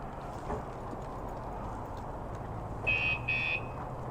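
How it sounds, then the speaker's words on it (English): A Hawk X 250 motorcycle alarm gives two short, bright electronic chirps close by, near the end of a few seconds of steady background noise. "See how that alarm works."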